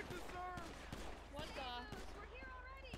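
In GTA roleplay, a string of quick gunshots rings out at irregular intervals, faint and distant, underneath excited, overlapping voices.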